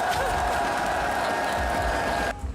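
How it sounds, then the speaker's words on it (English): A European crowd at an esports arena cheers loudly and continuously during a competitive match, a dense roar with a faint tonal hum that cuts off abruptly near the end. "The crowd is cheering."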